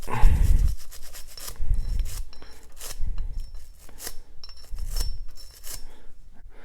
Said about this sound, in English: you just take your brush and clean right over the surface of that